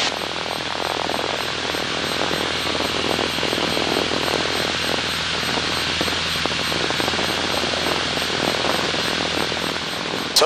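Propeller airplane engine holding a steady, loud drone through a climb under power, broadband and continuous throughout with no talk.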